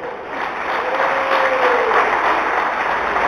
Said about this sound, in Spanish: Feliciano René Correa de Jesús María, fuerte el aplauso también por acompañarnos